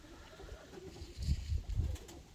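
Pigeons coo softly in a lakeside village coop, a few low, throaty calls repeating in quick succession over quiet background noise, nearby but faint.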